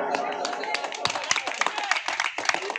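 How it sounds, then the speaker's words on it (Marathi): An outdoor audience at a village prize-giving ceremony claps for the first-place winner. The applause is uneven and scattered, with sharp individual claps building into a loose burst and voices mixed in. "सगळ्यांनी एकदा जोरदार टाळ्या वाजवायच्यात रामूसाठी."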